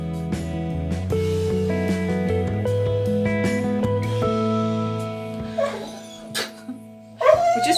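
A dog gives long, wavering whimpering whines that rise and fall in pitch, then breaks into a few sharp, loud barks near the end.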